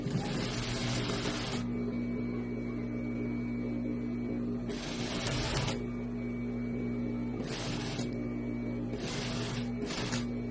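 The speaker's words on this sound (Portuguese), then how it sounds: "Vou vir aqui na máquina. E vou descer até lá embaixo com a costura de 1 centímetro." An electric sewing machine stitches a 1 cm seam on a women's tailored vest, running in several bursts of steady mechanical whirring with a constant low hum underneath.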